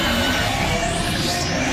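The cry of Zygarde in its 50% form from the Pokémon video games rings out loud and close: a dense, harsh, sustained synthetic roar with a rising sweep near the end before it cuts off sharply.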